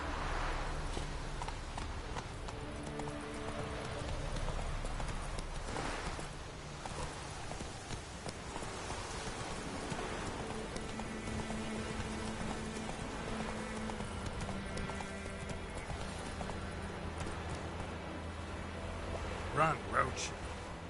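Roach, a horse in The Witcher 3, gallops in a steady clip-clop rhythm of hooves that runs through the whole stretch under game music and voices.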